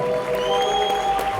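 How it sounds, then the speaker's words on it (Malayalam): An audience at a stage program gives applause for a singer, a steady, loud wash of clapping with a faint tonal hum underneath. "നല്ലൊരു കയ്യടി കൊടുക്കുക"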